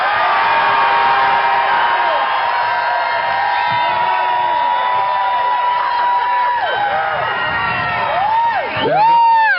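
A large crowd at an anti-hydrofracking protest in Albany cheers, whoops and shouts continuously and loudly, a dense wall of many voices with rising yells near the end.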